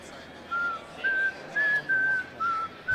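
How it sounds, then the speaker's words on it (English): A person whistles a tune in clear, sustained phrases over the hum of a crowd at a curling championship final, with brief pauses between notes. "He's whistling."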